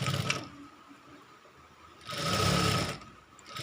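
A sewing machine stitches princess-cut blouse pieces together in two short bursts, a brief one at the start and a louder steady run near the end. The motor whir is close, with a quiet pause between the runs.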